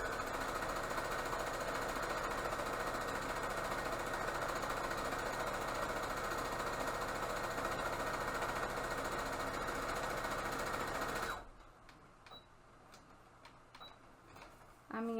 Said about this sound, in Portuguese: Dobro ao meio e passo uma costura de fora a fora, tá? Um pé de máquina